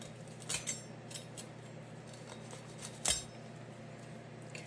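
A knife works around the leg of a kamado-smoked turkey with crispy skin, giving a few faint, sharp clinks of metal against a plate over a quiet, humming background.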